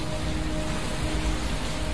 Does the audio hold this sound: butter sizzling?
no